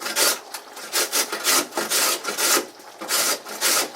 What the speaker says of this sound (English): I'm going to use the bigger part of the grater here